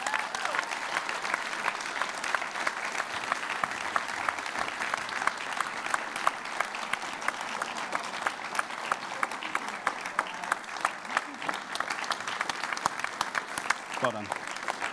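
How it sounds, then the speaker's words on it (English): Steady, sustained applause from a crowd at a school prize giving, dense clapping at an even level throughout with no pauses. "Round of applause."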